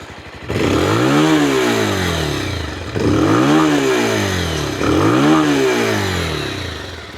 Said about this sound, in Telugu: సో ఇది బండి ఒక ఎగ్జాస్ట్ నోట్.